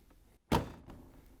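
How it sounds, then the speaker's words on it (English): The door of a GE washing machine swings shut with one sharp, solid thunk. A fainter knock follows, then quiet. "Once you have it on, we can close the washer door."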